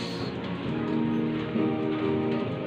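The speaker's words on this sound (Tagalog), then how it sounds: "Umuulan." Steady rain falling on a surface, a continuous broadband patter with a faint murmur of voices underneath.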